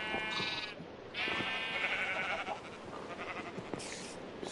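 Minecraft sheep bleat over and over in wavering, nasal cries, some overlapping and others alone, at moderate loudness with no talk.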